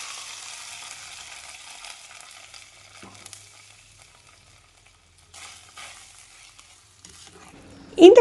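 Small onion vadagam frying in a pan sizzles with a dense crackle that fades toward near quiet, returns briefly, then ends in a sudden loud clunk close by.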